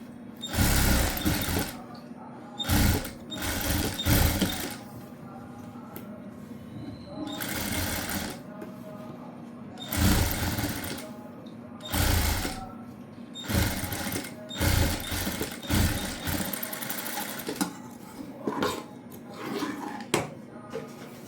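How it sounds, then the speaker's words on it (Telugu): A sewing machine runs a double stitch on a blouse in repeated short bursts of fast, rattling needle action, loud and close, with brief pauses between runs. "ఈ డబల్ స్టిచ్ అనేది పైనుంచి వేసుకోవాలండి"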